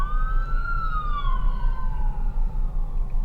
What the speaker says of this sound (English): you got an ambulance coming